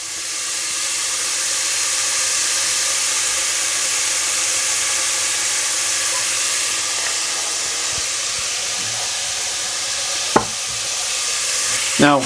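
Pork searing and frying in olive oil in a pan while being stirred for a Spanish tapa, a loud, constant sizzle and hiss throughout with faint scraping, plus a sharp clink near the end.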